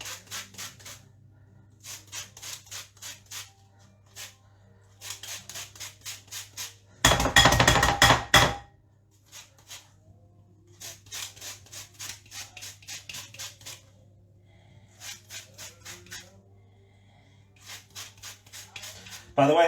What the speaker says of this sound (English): Just grate the zest.